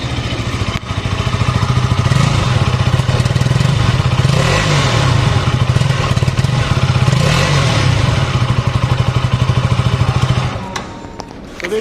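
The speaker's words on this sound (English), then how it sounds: "So very signature KTM style, I would say, and I felt like the exhaust note is kind of damped." A 2022 KTM RC 200 motorcycle engine runs close by, its damped underbelly exhaust throbbing and revving in repeated surges before dropping back to idle.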